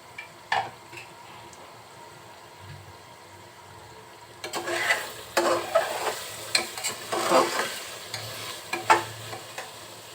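Beef braising in a pan: quiet at first, then steady sizzling begins with repeated stirring and scraping strokes, close and fairly loud, in uneven bursts.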